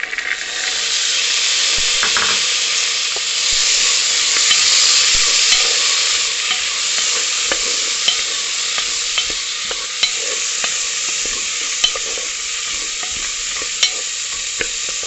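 Chickpeas sizzle in hot oil with cardamom as they are stirred in a pan, giving a loud, steady frying hiss. Scattered scrapes and knocks from the stirring come through it, and no one speaks.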